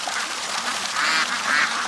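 Ducks quack in a dense, steady chorus of harsh, nasal calls, fairly close and moderately loud, with several birds calling over one another outdoors.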